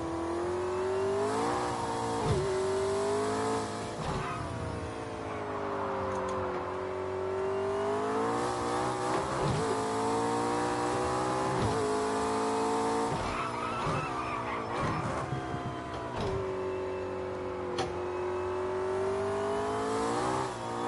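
A race car engine howls steadily around a track lap, revving up and down through gear changes as it runs wide through the turns, loud and close throughout, with tyres squealing at moments.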